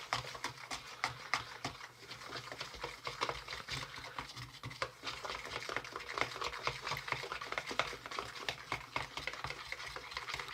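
A spatula mixes pie batter in a bowl for a 1973 Ideal In A Minute Pie Maker, making soft, rhythmic scraping and stirring strokes that repeat quietly and close by.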